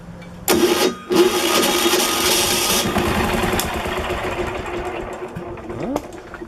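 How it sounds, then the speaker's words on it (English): Straight-piped 10 horsepower diesel engine starting: a short cranking burst, a second attempt, then the engine catches and runs with a loud, fast, rattling chug close by that fades slightly before a brief rev. "Today we're going to do a little starting up on this 10 horsepower diesel."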